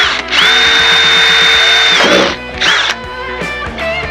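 A power drill bores a hole into a gas can, whining loudly and steadily for nearly two seconds, then bursts of drilling start and stop in shorter runs.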